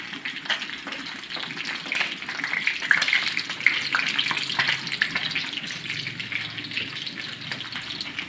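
Fish being sautéed with chopped banana heart and saluyot greens in a pan, a continuous close sizzle with crackling pops and occasional stirring scrapes, no talking.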